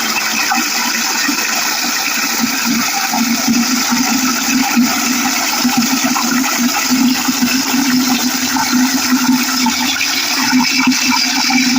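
Water gushes steadily into a homemade organic garden slurry, a loud, unbroken rushing pour held close for the whole stretch with no pauses.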